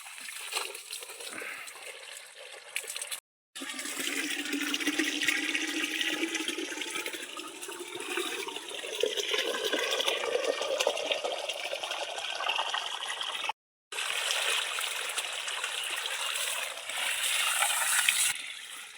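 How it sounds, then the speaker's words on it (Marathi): Water runs steadily into a clay pot for a long stretch, the pitch of the filling slowly rising, broken by two brief pauses. "आत्ताच माठ भरून ठेवला हा"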